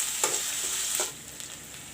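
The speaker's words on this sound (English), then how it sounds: "Now I'll put the ginger, garlic and green chili. Let it turn brown a little bit." Ginger, garlic and green chili frying in hot oil, a soft steady sizzle with a couple of brief stirring scrapes, close and fairly quiet, no voices.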